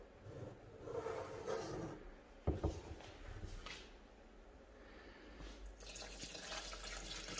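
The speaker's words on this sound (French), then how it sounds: "Donc on va mettre 1 litre d'eau." One litre of water poured into a pot while preparing Moroccan harira, a steady liquid flow with dripping and splashing over several seconds, fairly quiet, with kitchen clatter partway through.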